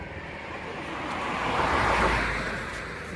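Sea waves wash onto the beach at Rameswaram in a broad, steady roar that swells to a peak and then eases, with wind rushing across the microphone.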